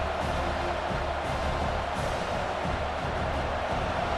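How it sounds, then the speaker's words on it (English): Simulated stadium crowd at a Notre Dame vs. Texas A&M college football game in College Football 26 on PS5 roars as a steady, dense wash of cheering and noise, loud and continuous throughout. "It's early, but this crowd is fired up. Listen to this noise here."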